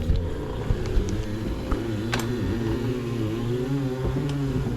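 The engine of a 1964 Mercury Monterey convertible runs at a steady idle, a close, continuous low rumble with an even pulse and no talking.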